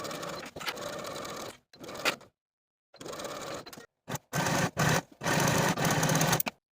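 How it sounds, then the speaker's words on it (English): A sewing machine sews a skirt seam for a holiday dress, heard close in several stop-start bursts of fast mechanical stitching separated by brief silences. "Sew this seam with a 5/8 inch seam allowance and finish your seam."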